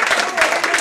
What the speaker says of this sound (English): That's why I'm thankful that everyone applauded